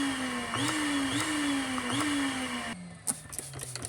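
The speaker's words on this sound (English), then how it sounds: "plugged it up with a vacuum" A vacuum blows air into a car exhaust system from the muffler end with a steady, loud motor whine whose pitch dips and recovers several times, then drops lower amid clattering handling noises.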